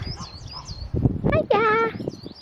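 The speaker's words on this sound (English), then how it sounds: "Oh, they're freaking hissing at me." Nesting birds hiss and call sharply at close range, giving a rough hiss and then a quick run of warbling, rising chirps.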